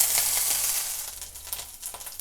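Green chili paste sizzling in hot oil with cumin seeds, for a sabudana khichdi: a steady bright hiss, close and fairly loud, fading slightly with a few crackling pops, no talk.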